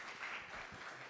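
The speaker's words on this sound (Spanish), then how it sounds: "Un aplauso para Pablo" A conference audience at a Latin American circular economy festival applauds briefly, a soft, distant wash of clapping with no talk.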